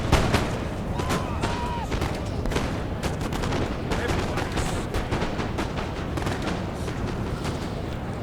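Massed musket fire from line infantry in the Napoleon: Total War strategy game, dense overlapping volleys and crackling shots over a steady roar of battle, loud and continuous throughout with no clear break.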